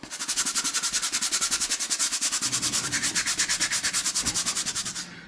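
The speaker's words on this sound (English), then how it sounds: "this is only giving it a quick scrub" A baseball cap gets a quick wet scrub with a brush, heard as rapid, evenly spaced rasping strokes, about eight or nine a second, close and steady before stopping abruptly.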